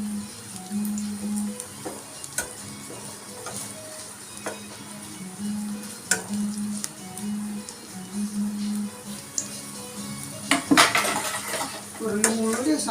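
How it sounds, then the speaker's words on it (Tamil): Garlic fries in oil over a slow flame, a steady sizzle running under repeated metallic scrapes and clanks of a spoon against the pan. Louder clatter comes near the end, and a faint voice is briefly present. "பூண்டு நல்லா பொன்னிறமாக வதங்கி வரட்டுங்க."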